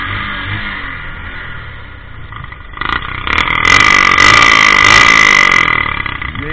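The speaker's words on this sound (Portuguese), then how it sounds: "Modificação no escapamento da CG 150." A Honda CG 150 motorcycle with a modified 2-into-1 exhaust is revved, starting as a rough idle, then rising into loud, raspy revs with swelling pitch, close by and without talk.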